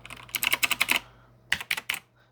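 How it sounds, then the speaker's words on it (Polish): Clicky typing on a Razer computer keyboard: a quick run of about eight close keystrokes, a pause, then three more presses, crisp and near with no talk. "Klawiatura od Razera, ładna, piękna."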